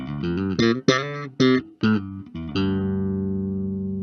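A Marcus Miller V3 bass guitar plays a short run of clean, punchy notes and ends on a long sustained note that rings out and slowly fades, with no talking.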